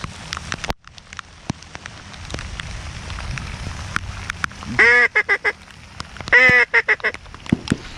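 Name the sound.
rain falling outdoors during a teal hunt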